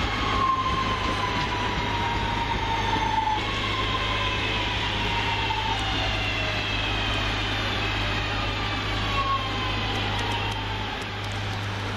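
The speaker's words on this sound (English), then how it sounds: "That'll be our train from Levenshulme." Northern Rail class 323 electric multiple unit arriving at a suburban station platform, a steady drone of traction motor and rolling wheels with faint rising and falling whines, close and continuous throughout.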